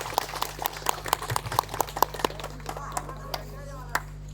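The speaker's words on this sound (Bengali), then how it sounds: "সম্মানীয় অসীম ঘোষ মহাশয়ের জন্য একটু জোরে হাততালি।" Audience applause at the opening of a cultural programme marking the 200th anniversary of an Adi Kali Puja: a run of evenly spaced sharp claps that thins out and fades, over a steady electrical hum.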